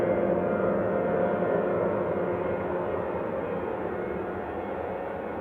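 A Boeing 737 jet departing Manchester Airport bound for Dublin, its engines giving a steady, broad roar that fades slightly as it continues, no talk over it.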